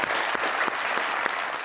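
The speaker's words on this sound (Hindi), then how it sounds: "बजा रहे हैं तालियां बड़ी एंजॉय करके।" Studio audience on a Pakistani drama talk show claps steadily and enthusiastically, a dense continuous patter of many hands, close and loud throughout with no voices.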